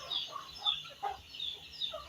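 Chickens clucking in a quiet provincial yard in the morning, several short, nearby calls at irregular intervals over a faint background.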